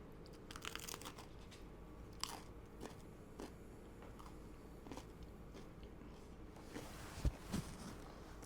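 Close, quiet crunching and chewing of crusty homemade casserole-dish-baked bread, crunchy crust and soft interior, with irregular crisp crackles over a soft background hiss and no talking.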